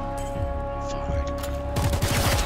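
Gunfire in the tactical video game Showgunners: a dense, rapid volley of loud cracks and rumbling booms bursts in near the end, following a steadier electronic hum and low game sounds.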